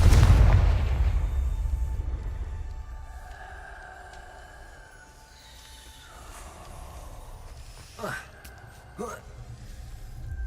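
A Confringo fire spell blast in the Hogwarts Legacy video game bursts loudly at the start, then fades into a low rumbling tail, followed by a couple of sharper magical cracks near the end; no one talks.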